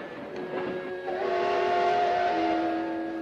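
A train in a 1956 film sounds a long, steady whistle with sustained tonal notes over a low rumble, fairly loud and continuous.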